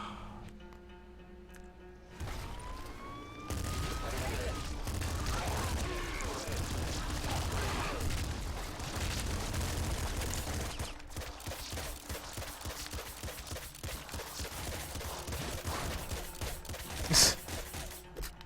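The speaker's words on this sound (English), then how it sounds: "So much shooting." Dense bursts of gunfire and booms from the video game Nuclear Throne, rapid and clustered, with one sharp loud blast near the end, heard fairly quietly.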